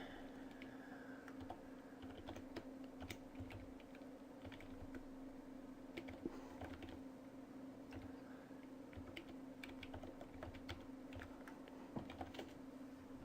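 Computer keyboard typing with irregular light key clicks, quiet and close, over a steady low background hum, no talking.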